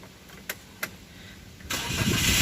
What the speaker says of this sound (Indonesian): Ini mobilnya coba starter, Pak.